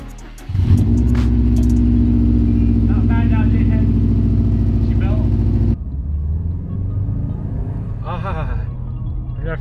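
A Series Grey Subaru STi engine starts with a loud catch and settles into a rough, rumbling idle at close range, then drops lower while someone speaks over it.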